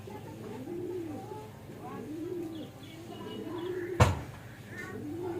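Racing pigeons cooing nearby in repeated soft rolling calls throughout, with a sharp knock partway through and faint chirps in the background.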